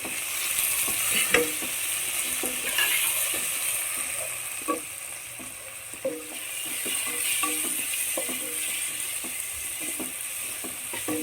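Chopped tomatoes sautéing in a pan, a steady close sizzle with scattered scraping clicks of a spoon stirring throughout, no voices.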